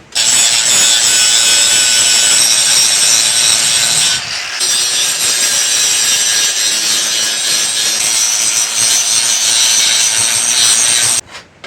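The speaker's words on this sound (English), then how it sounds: "we're going to just go ahead and grind this section flat on the spine" Steel is ground flat along the spine of a WWII German rasp being turned into a short sword, a loud continuous abrasive whine that dips briefly once, then runs on close up until it cuts off near the end, no voices.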